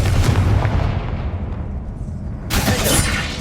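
A Confringo spell blast in Hogwarts Legacy, a loud fiery burst that rumbles and fades, followed by a second sharp crackling impact near the end, with no one speaking.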